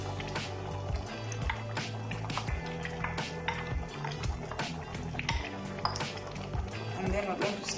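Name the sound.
adding tomatoes to a pot of cooking beans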